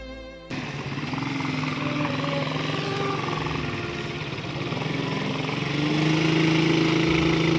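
A motorbike engine runs with a buzzing mid-pitched drone that starts abruptly and holds steady, rising slightly in pitch and loudness near the end, heard close with no talk.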